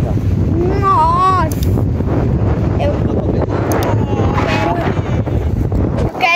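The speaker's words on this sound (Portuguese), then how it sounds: "parece que o vento já tá me puxando já" Strong wind buffets the microphone outdoors on a foggy, rainy day during a wheelchair outing, a steady loud rumble throughout with a few brief vocal sounds over it.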